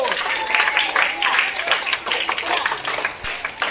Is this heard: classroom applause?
yes